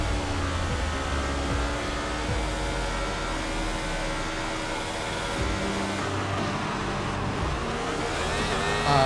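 F1 race cars launching at the Spa Belgian Grand Prix in F1 24, a dense high-pitched engine whine from many cars, revving and shifting continuously at close range.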